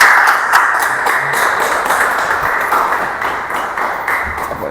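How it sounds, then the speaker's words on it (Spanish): Audience applause for Dr. Fernando Griffith at a youth talk fills the whole stretch, a loud, dense wash of clapping that slowly tapers. "Un aplauso para el doctor Fernando Griffith."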